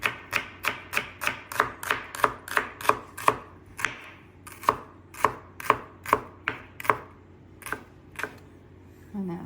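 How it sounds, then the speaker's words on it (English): Knife slicing chicken on a cutting board for a Vietnamese stir fry, about twenty crisp, evenly paced chops with a short pause midway, close and clear over a faint background hum. "I'm just gonna slice it up."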